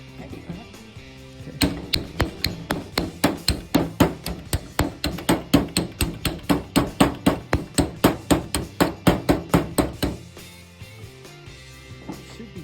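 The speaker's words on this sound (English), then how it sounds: "I'm going to grab dolly and a planishing hammer" A planishing hammer strikes sheet metal backed by a dolly while aircraft panels are shaped for a Bearhawk build. Dozens of sharp, ringing metallic blows come in a steady, fast rhythm, loud and close, then stop abruptly.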